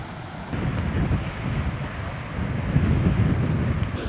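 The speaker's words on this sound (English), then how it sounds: "The waves are good." Ocean surf rolls and crashes at a beach under strong gusting wind, a steady roaring wash with wind buffeting the microphone, growing slightly louder toward the end.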